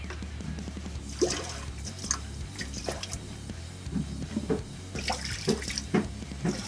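Antifreeze pours and splashes into household plumbing in a summer house, a steady trickle broken by gurgles and drips, close and moderately loud.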